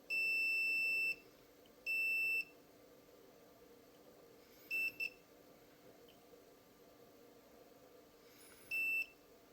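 A multimeter set to continuity gives sharp high beeps while a circuit board is being built: two long tones, a pair of quick short chirps, then one more tone, against a quiet background.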